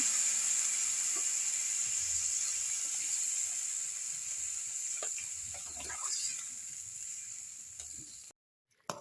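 Water is poured into a pan of bottle gourd and potato being cooked for a Bengali lau chingri curry, giving a steady hissing sizzle that runs for about eight seconds before cutting off abruptly.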